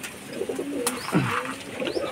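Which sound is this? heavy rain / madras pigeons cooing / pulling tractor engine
madras pigeons cooing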